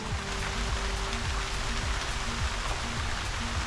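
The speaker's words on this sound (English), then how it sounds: "Rain's coming down pretty heavy." Heavy rain pours down in Aiken, South Carolina in a dense, constant hiss, with droplets pattering on a nearby surface throughout.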